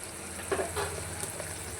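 Homemade sambar powder is added to a pan of gently frying ingredients for bele soppina saaru, giving a steady close sizzle with a few soft stirring scrapes and no talking.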